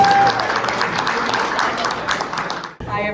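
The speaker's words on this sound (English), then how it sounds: "Give her a round of applause." Audience applause at a talk, dense steady clapping filling the room for almost three seconds before cutting off abruptly.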